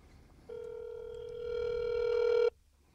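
A phone on speaker dials out, giving a single steady electronic tone that holds for about two seconds before cutting off, over a quiet room hum.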